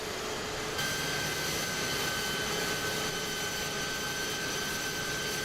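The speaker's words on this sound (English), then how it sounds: "But that engine is working hard as hell." An Airbus A300 jet engine in Microsoft Flight Simulator 2020 roars steadily and loudly under full power, with a sustained whine that holds unbroken and doesn't vary.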